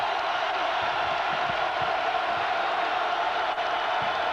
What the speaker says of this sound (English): the crowd's revving it up now